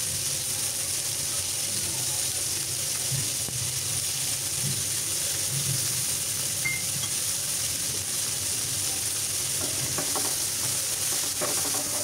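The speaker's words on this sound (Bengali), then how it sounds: "এখন পেঁয়াজগুলো আমি প্যানের মধ্যে খুব ভালোভাবে নাড়াচাড়া করে নিচ্ছি।" Onions and green chillies fry in oil in a pan, giving a continuous close sizzle with intermittent scraping and clicking as they are stirred.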